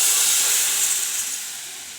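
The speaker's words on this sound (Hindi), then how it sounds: "अब हम लोग इसको डालेंगे अपने मसरों के ऊपर" A hot tadka tempering finished with chaat masala is poured over whole masoor lentils, giving a loud close burst of steamy hissing sizzle that slowly fades over two seconds, with no voices.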